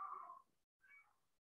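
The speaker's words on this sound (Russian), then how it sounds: "это мой кот. Он очнулся от операции, ему больно, и он кричит." A cat cries out in pain after waking from surgery, two drawn-out wails separated by a short pause, fairly faint and alone without any talking.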